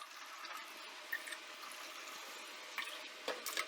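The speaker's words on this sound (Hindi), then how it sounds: "अब हम इसमें शामिल करेंगे 2 कप पानी" Water being poured into a mint-flavored green mango drink (aam panna), heard as a faint, steady liquid rush with a few small splashes near the end.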